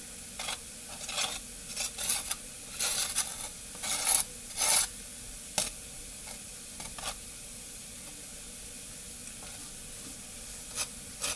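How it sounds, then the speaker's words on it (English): Butter is rubbed across hot naan bread with soft, scraping strokes in irregular bursts, over a low steady sizzle from the cooking surface. "I decided to go put some more butter on it"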